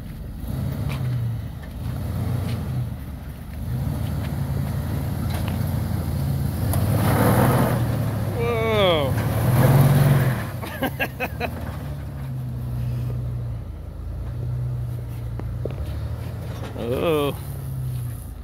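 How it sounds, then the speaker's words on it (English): A Jeep fitted with a snow plow pushes and back-blades snow off a tilt trailer, its engine revving and droning up close with scraping bursts and squeaks, while people talk over it throughout. "we do have a Jeep with a plow"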